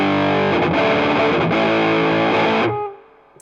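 Electric guitar in the fourth pickup position through KingTone and Vemuram pedals, playing loud, sustained overdriven chords that change a few times before ringing out and fading.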